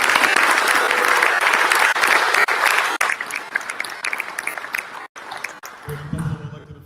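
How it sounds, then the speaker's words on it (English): An audience at a health care and insurance listening session in Tampa breaks into loud applause that thins out after a few seconds into scattered claps, with a voice coming in near the end. "So please give her a round of applause."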